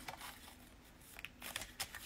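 Tarot cards being shuffled by hand in a soft, irregular flurry of riffles and quick brushing slides, faint and close, with no talking.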